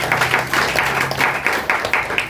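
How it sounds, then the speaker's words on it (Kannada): An audience applauds at a literary and cultural gathering, clapping in a steady, moderately loud patter with no talk over it. "ಜೋರ ಚಪ್ಪಾಳೆ"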